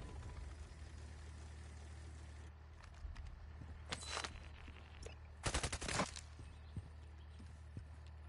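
Call of Duty MW3 gunfire heard as short rattling bursts, the loudest a rapid volley around the middle, over a steady low hum of game ambience, fairly faint and distant with no talk.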